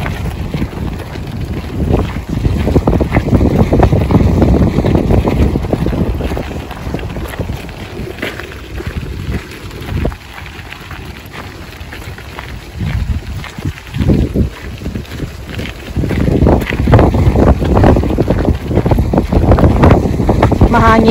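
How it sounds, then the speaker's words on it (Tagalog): Heavy wind buffets the microphone in loud, roaring gusts that swell and ease over a sustained blustery rumble, outdoors in Norway in summer. "Hangin guys, sobrang hangin."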